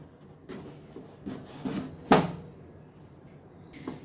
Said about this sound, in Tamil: இதை கொஞ்சம் மொத்தமாக நான் இதை கட் பண்ணிக்கிறேன். ஸ்கொயர் ஷேப்பில் தான் கட் பண்ண போகிறேன்